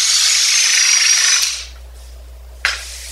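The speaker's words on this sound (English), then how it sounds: "drill it just enough to mark it." A loud power drill whines steadily for about a second and a half while boring into scrap wood, then stops, leaving quiet with a brief sharp knock near the end.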